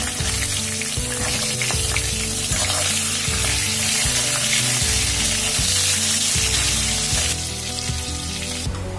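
Fish fries in a pan with a loud, continuous sizzle and crackle up close, accompanied by faint rhythmic stirring or scraping, and no talking.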